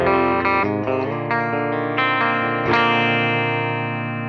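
An electric guitar plays sustained, heavily effected chords through a GE250 amp, captured close on a U87 condenser microphone with a full, rich tone and a fresh strum near the end.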